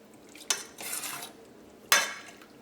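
Chicken mixture stirred in a pan, two sharp clanks of a utensil against the pan with soft scraping between them, heard close and with no talking.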